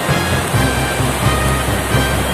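A turbulent, cold mountain river in a gorge roars in a loud, steady broadband rush of churning water throughout, with no voices.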